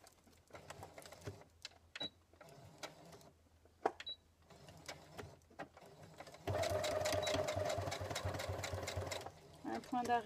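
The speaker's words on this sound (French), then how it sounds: "Vous venez vous installer sur la machine et vous allez piquer comme une trousse standard." A sewing machine stitches an insulated pouch in short bursts of rapid mechanical chatter, separated by pauses and clicks, then one longer continuous run, close and fairly quiet, with faint speech underneath.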